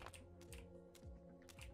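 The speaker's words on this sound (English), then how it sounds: "I apologize if you don't like my clicky keyboard." Clicky mechanical keyboard typing in quick bursts of keystrokes, close and fairly quiet, with a steady low hum underneath.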